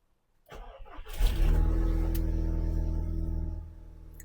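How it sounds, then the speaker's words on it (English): A 2013 Audi TT is started: a short starter crank, then the engine catches with a sharp flare of revs and settles into a steady, close idle for about two seconds before it drops away. "I need to start the car"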